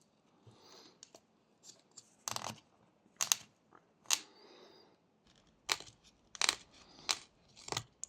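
A knife blade presses and slices into wood while a small dog figure is whittled by hand, giving scattered short, crisp cutting scrapes and clicks at close range with quiet pauses between them.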